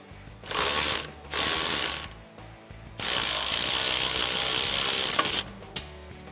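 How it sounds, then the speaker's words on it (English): A hand ratchet with a deep 18mm socket loosens a car's strut bolt. It makes three bursts of rapid clicking: two short runs, then a longer, louder one of about two seconds, each separated by brief pauses. "Now with a deep 18mm socket, we're gonna go ahead and get that loose."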